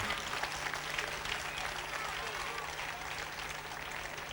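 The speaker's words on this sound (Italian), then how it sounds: "un applauso a tutti i tecnici che dopo presenteremo uno per uno" A crowd at a live outdoor concert in Sonnino, Italy, applauds the technical crew, with dense, sustained clapping and a low steady hum underneath throughout.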